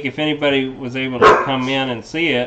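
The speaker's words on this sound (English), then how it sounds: "whoa, the dog just barked" A dog barks a few times in the background of a live show broadcast, the barks tangled with someone talking steadily in the foreground.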